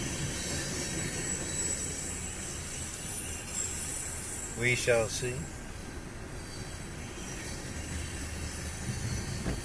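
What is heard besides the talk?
passing train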